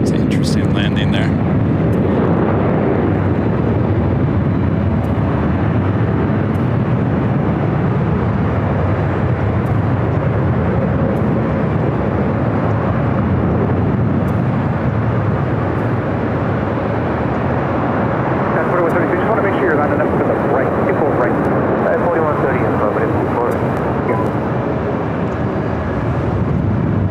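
An American Airlines plane landing on runway 24 right at Los Angeles International Airport, a loud continuous broadband jet roar that swells toward the end, with voices mixed in beneath it.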